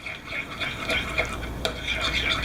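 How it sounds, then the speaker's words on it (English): Chicken and chickpeas stirred with salt and pepper, giving a steady run of soft scraping and tossing noises with occasional light clinks against the pan, fairly close and continuous. "Mix that all up"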